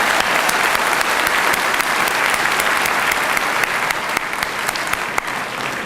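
Loud sustained applause from an audience celebrating Public Accountant's Day at a university ceremony, a dense continuous clatter of many hands with a few sharper individual claps standing out.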